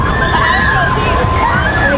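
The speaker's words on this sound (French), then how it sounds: "Ça éclabousse." Water splashing and sloshing on an amusement park water ride at Walibi Belgium, a continuous wash of spray and gurgling with crowd babble and voices mixed in.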